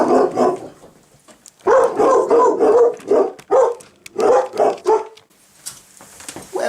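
Dogs barking at an Amazon delivery at the door, loud close repeated barks and yips coming in irregular bursts with short pauses.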